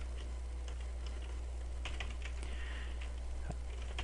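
Fingers type on a computer keyboard in quick, irregular bursts of light clicks close up, over a low steady hum with no talk.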